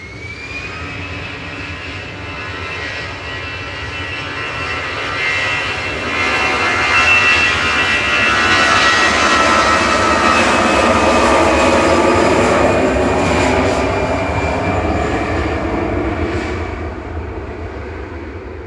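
A Ryanair jet airliner rolls out after landing at Manchester Airport, arriving from Cologne. Its engines give a continuous whining roar that swells through the middle and then eases away, with no voices.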